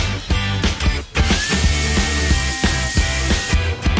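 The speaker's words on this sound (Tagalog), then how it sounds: "To prepare the sides of plyo box, I pre-drilled and put countersink hole." A power drill bores pilot and countersink holes into plywood for a plyometric box, its motor whining in short loud bursts with brief pauses and stop-start revving, close up and without speech.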